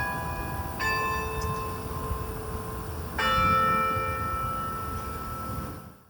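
A 48-bell concert carillon in a tower at Baylor University in Waco playing the Samsung washing machine tune, two clusters of loud ringing bell strikes with long shimmering sustains decaying into silence.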